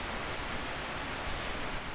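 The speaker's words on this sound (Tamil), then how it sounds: "மழை ஆரம்பிச்சிருச்சு." Heavy rain pours down in a children's animated story, a dense, even hiss of downpour that stays steady and loud without any voices.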